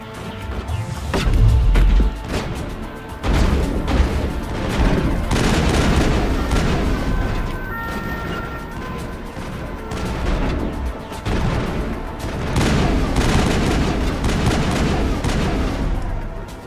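Gunfire from the Mass Effect video game during sniper combat: repeated loud shots and booming impacts crowd a dense, continuous battle mix, with no talking.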